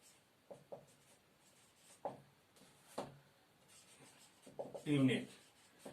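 Chalk or marker writing on a classroom board during a Class 10 maths lesson, short scratchy strokes in bursts, close, alternating with a teacher's voice.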